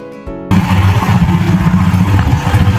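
A motorboat engine drones loud and close on the Sangu river in Bandarban, kicking in abruptly after a brief quiet start and then running at a steady, throbbing mid pitch with no talking.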